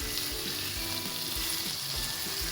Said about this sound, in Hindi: अब गोश्त को हम अच्छे से फ्राई करेंगे 1 से 2 मिनट के लिए।